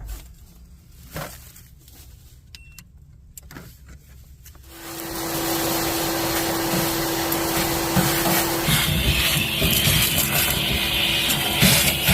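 A vacuum cleaner powered by an Oukitel P2001 power station switches on after quieter handling noises and then runs loudly and steadily with a constant whine, close by and alone.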